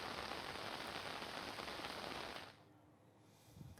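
Heavy rain pours down in a dense, steady hiss for a few seconds, then eases to a softer, quieter patter.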